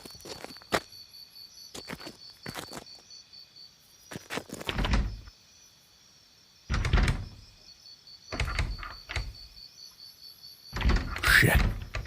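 In a Fallout game, a stuck door gives several short mechanical thunks and rattles in separated bursts. Quiet pauses and a faint steady electronic hum fill the gaps between the bursts.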